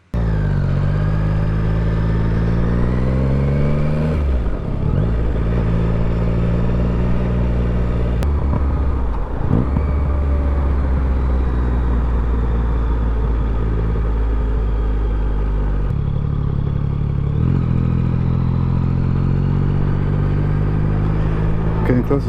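Yamaha MT-09 motorcycle with an aftermarket exhaust riding on the road, a loud continuous engine rumble rising and falling through gear changes and revs, close to the rider.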